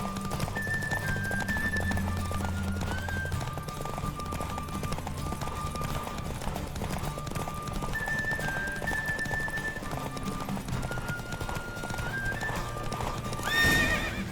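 Hooves clip-clop in a fast steady gallop during a horse race in The Witcher 3: Wild Hunt, with a horse whinnying, over a layer of tonal game music and effects.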